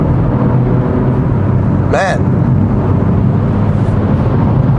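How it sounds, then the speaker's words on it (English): Steady engine rumble from inside the cabin of a 2023 BMW 330i M Sport in comfort mode, with someone talking briefly over it. "I love how the engine sounds"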